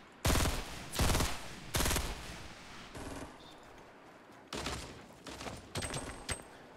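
Burst rifle gunfire in Fortnite: Battle Royale comes as several sharp, loud multi-round bursts, spaced unevenly about a second apart with short gaps between them.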